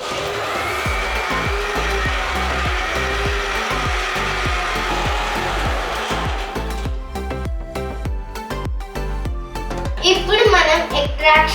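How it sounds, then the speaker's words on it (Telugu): An electric blender whirs steadily as it blends dragon fruit juice with ice cubes and vanilla ice cream, a loud continuous grinding hum under rattling ice, then easing toward the end as speech briefly rises. "ఫైనల్ గా మనం ఐస్ క్యూబ్స్ వేసుకొని స్మూత్ గా బ్లెండ్ చేసుకుందాం."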